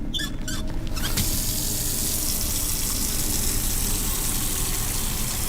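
Water gushes into a bucket in the video game Autopsy Simulator, a short clatter at the start giving way to a steady, loud rushing pour that continues alone.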